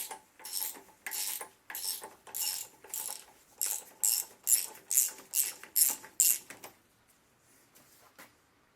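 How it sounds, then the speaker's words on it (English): A 3/4 inch wrench or socket ratchets in a run of about a dozen crisp, evenly spaced clicks, close and clear, removing the coupler from an Atomic 4 marine engine's reversing gear, then falls silent. "You'll need a 3/4 inch wrench or socket. Simply tighten and remove the coupler."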